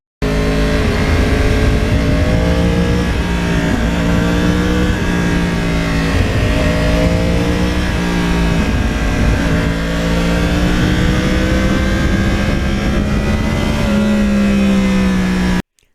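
Yamaha R1 crossplane-engine motorcycle revving and pulling hard, a loud, close, continuous rasping engine note that climbs and drops through gear changes for the whole stretch, cutting off abruptly at the end.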